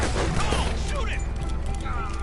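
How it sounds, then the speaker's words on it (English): Gunfire in Red Dead Redemption 2 sounds amid a dense, busy game mix, with a few sharp shots cutting through steady background noise while a voice talks over the action. "Come on, shoot it."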